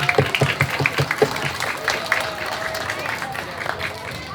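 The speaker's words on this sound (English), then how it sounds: "And let's give them all a round of applause." Applause from the crowd at an outdoor community Day on the Bay event, starting with several distinct claps and settling into a softer, sustained patter with some crowd murmur underneath.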